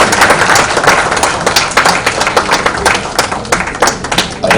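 An audience at an event honouring Vikram Gokhale breaks into loud, sustained applause with dense, continuous clapping throughout.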